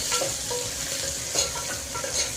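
Green chillies fry in hot oil for a spicy Andhra-style mutton curry, a close bubbling sizzle broken by a few stirring scrapes and bursts roughly every half second, with no voices.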